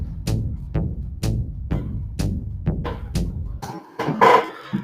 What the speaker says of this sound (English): I'm just going to quantize that.